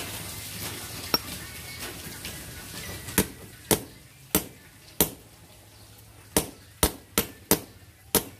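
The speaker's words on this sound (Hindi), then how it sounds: "इसी तरह ठोक ठोक के लगाएंगे हम" A bearing is hammered into a marble cutter machine: sharp metallic knocks, about a dozen, come in irregular bunches, some quick in succession, loud and close against a faint background hum.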